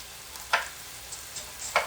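Chopped frozen tomato fries in a pan with onion, ginger and garlic paste over low heat, giving a faint steady sizzle broken by a few soft stirring clicks, with no talking.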